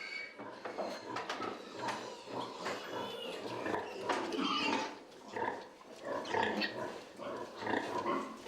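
Pigs on a ranch grunt and snort in rapid irregular bursts, close and fairly loud, with shuffling and movement noise between the calls and no human voice.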